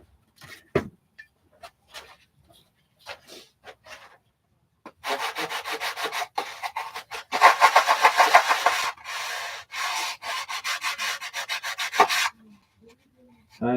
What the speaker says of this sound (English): Kind of just take my time and sand it in.